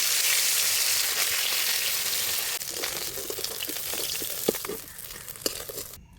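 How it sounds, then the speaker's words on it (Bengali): Lata fish frying in oil in a village kitchen: a bright, crackling sizzle that is strong at first, then thins into scattered pops and spits, and cuts off abruptly. "ল্যাটা মাছগুলো ভেজে নেব।"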